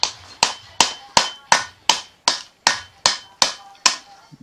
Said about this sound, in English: Just starting to get warmed up on hammering